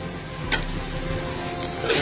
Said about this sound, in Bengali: আমি এটাকে ভালো করে একটু কষাচ্ছি